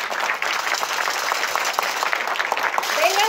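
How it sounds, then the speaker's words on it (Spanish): Steady applause from a crowd, dense and continuous clapping throughout, fairly close and moderately loud. "vamos a darles un aplauso"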